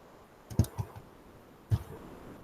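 A few separate keystrokes on a computer keyboard during a C programming lab session, a quick cluster of clicks followed by one more tap after a pause, close and fairly quiet with no talking.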